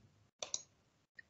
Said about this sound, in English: we can do right click on the mouse